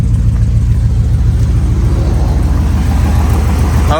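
A 2015 Sierra truck engine with a newly fitted turbo runs close by at a steady idle, a loud continuous low rumble with a regular pulsing beat and a faint whine above it.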